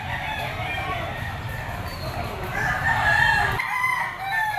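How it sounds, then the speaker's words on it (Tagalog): A gamecock rooster crows at the Lipa auction market, a drawn-out call rising over a dense, noisy crowd and other fowl, with people talking nearby. "Manok to ni Boss Jared mga tol."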